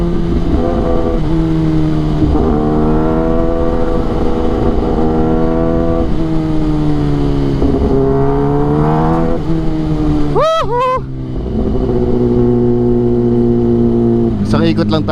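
Kawasaki Ninja ZX-10RR engine running loud and close, holding a steady idle with a couple of sharp revs around the middle, while people talk over it.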